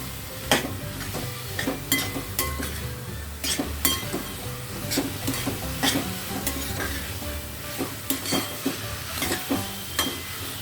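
Mixed vegetables stirred in a sizzling pan, with loud, close, rhythmic scrapes and metallic clinks of a spoon against the pan over a constant frying hiss.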